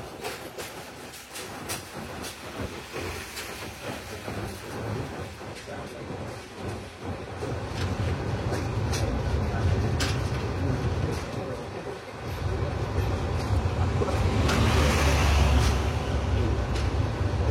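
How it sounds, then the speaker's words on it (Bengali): The Kurigram Express train crosses the Jamuna bridge with a steady, loud rumble and a clatter of wheels seen from inside the carriage, its low roar swelling and holding to the end with a few faint voices in the background. "আমাদের ট্রেনটি এখন যমুনা সেতু অলমোস্ট অতিক্রম করে ফেলেছে"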